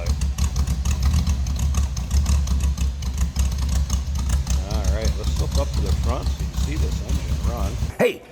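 A 1932 Chevrolet Master Roadster street rod with a cam idles low and lumpy, a deep and loping rumble that runs steadily close by while someone talks over it.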